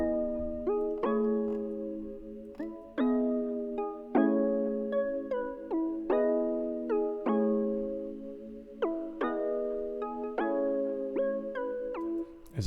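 A simple chord melody played on a synth in the FL Studio Harmless plugin: about a dozen bright, evenly sustained chords in a steady rhythm, each struck cleanly and decaying, with no other sound.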